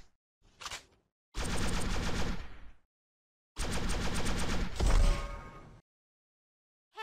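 Bursts of rapid automatic gunfire in the mobile MOBA FPS game ShellFire, two long sustained volleys of about one and a half and two seconds separated by silence, loud and close, with no talk.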